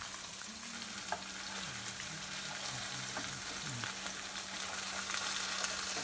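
Turkey queso burgers frying in oil in a pan: a steady, moderate sizzle with soft crackles and an occasional clink, constant throughout and unaccompanied by talk.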